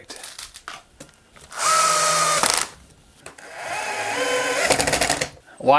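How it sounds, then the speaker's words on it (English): A power drill drives screws while a moving sculpture is built, with two long whirring bursts that rise and stall as each screw seats, close and loud, among clattering handling noises and some talk. "Why I haven't been using my drill this whole time, I have no idea."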